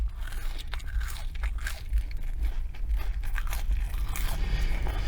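McDonald's fries are bitten and chewed close to the mic, with steady crunchy, moist mastication sounds filling the short stretch without any talking.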